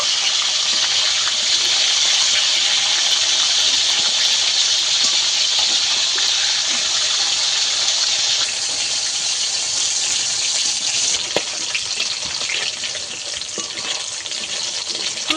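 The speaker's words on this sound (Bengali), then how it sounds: "একইভাবে এই মাছগুলোকেও ভেজে নেব।" Whole lote (Bombay duck) fish fry in hot oil, giving a loud, continuous sizzling hiss that holds steady and eases slightly toward the end, with no talk over it.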